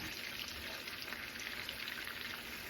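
Garlic frying in a pan for a lemon butter sauce beside seared cod, a steady close sizzle with fine crackling that holds evenly throughout, no voices.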